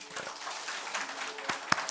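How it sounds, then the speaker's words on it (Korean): A church congregation at an Easter Sunday morning service breaks into soft, diffuse applause, a faint steady wash of clapping with a couple of sharper individual claps near the end. "이제 박수는 한번 해칠까요?"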